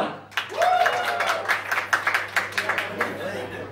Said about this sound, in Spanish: Aplausos para Corona.